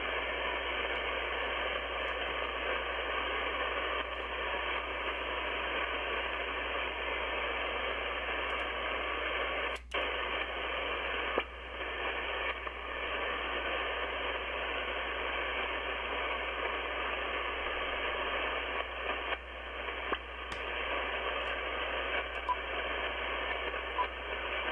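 A ham radio receiver hisses with steady band-limited static between calls, continuous and even, broken by occasional faint clicks and short dropouts, with no voice.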